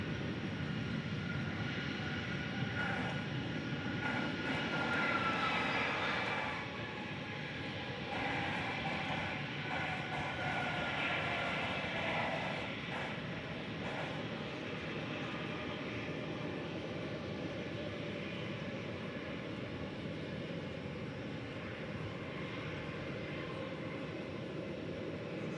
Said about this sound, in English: There's a little American Airlines Airbus A319 going to Des Moines